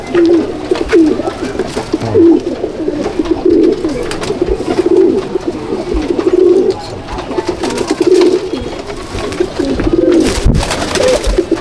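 Pigeons in a loft, Dobaj breed, give a steady run of repeated low cooing. The calls are close and fill the whole stretch, with no talk over them.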